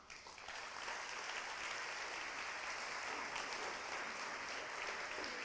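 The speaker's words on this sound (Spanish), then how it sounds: "Vamos a darle un fuerte aplauso al Señor" A church congregation gives sustained applause during a Spanish-language sermon, with a broad, even roar of many hands clapping that holds throughout.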